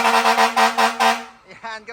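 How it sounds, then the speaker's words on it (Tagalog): A fire truck's air horn blasts loudly and close by in a rapid series of about six short, pulsing honks, then stops. A voice can be heard briefly just after the horn. "Andy, busina muna bago ako umakit dyan."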